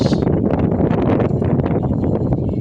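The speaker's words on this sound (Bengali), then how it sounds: "প্রচুর বাতাস" Strong wind buffets the microphone outdoors where a brood of young chicks is being raised, a loud, continuous broadband rumble and rustle with no let-up, heard alone without talk.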